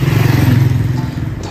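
A motorbike engine hums steadily while riding along a road near Kanyakumari in Tamil Nadu, a close, low pulsing drone with faint clatter, no talking.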